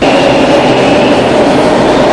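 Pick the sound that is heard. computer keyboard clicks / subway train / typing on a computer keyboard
subway train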